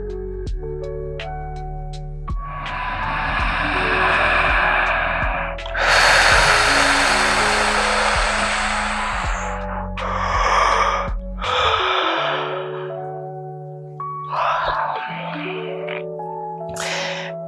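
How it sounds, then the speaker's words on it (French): Deep, slow yoga breathing, long drawn inhales and exhales in a repeating rhythm, heard up close over a soft tonal music background. "Encore quelques respirations."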